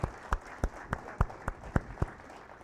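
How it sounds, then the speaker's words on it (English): Members of a woodworkers guild audience clapping at a meeting, a loose, sparse round of individual hand claps spaced irregularly, fairly close and moderately loud, with no talking over it. "You can clap."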